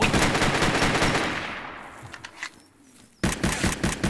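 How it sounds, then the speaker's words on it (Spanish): Gunfire in the survival shooter ZERO Sievert: a dense burst of rapid automatic shots fading into the distance, a brief lull, then another sharp volley of shots. "Hay ruidos de tiros."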